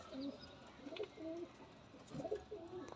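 Teddy pigeons coo softly nearby in a few short, rolling calls, a faint pair of bursts with quiet gaps between.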